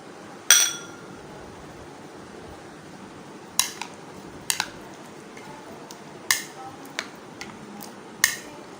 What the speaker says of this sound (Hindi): इसको भी अच्छी तरह दही में मिक्स कर लेंगे